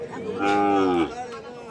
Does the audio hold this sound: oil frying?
no